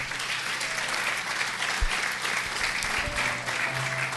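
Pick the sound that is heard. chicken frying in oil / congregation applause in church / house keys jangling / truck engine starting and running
congregation applause in church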